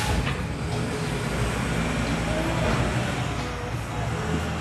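Garbage truck running outside, a loud steady rumble of engine and road noise that holds without break throughout.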